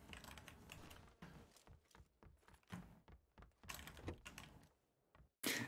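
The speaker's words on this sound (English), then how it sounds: "it's picking up a bit of his keyboard," Typing on a computer keyboard is picked up faintly by a nearby microphone during a live stream setup, with irregular bursts of clicking keystrokes broken by short pauses.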